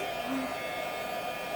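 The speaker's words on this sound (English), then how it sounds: "So I'm going to turn it on. We're going to let it warm up for a couple of seconds." Constant airy whoosh of a heat gun blowing, steady throughout the brief stretch, with no speech over it.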